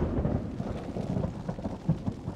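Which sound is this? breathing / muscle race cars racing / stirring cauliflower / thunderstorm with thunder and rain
thunderstorm with thunder and rain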